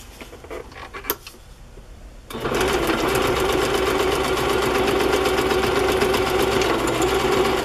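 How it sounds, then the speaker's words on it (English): A sewing machine stitching paper into fabric runs in a steady, fast mechanical whir after a couple of seconds of quieter handling noise and light taps, close and continuous, with no speech. "You can sew the paper in before you sew the fabric to the top"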